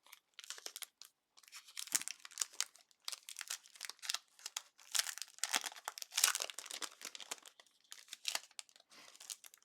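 Plastic packaging around an embossing folder crinkles and tears in quiet, irregular bursts of crackling and rustling, handled close by with short pauses between movements.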